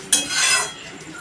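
Vermicelli stirred while frying in ghee makes a brief scraping rustle of a utensil in a pan, with a quick sharp start and a soft sizzling hiss that fades within a second.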